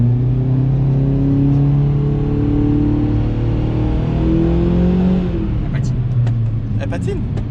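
A BMW M5 engine pulled at full throttle in fourth gear on a dyno, a loud steady roar with rising harmonics that drops off near the end as crackles and pops take over, with people talking over it.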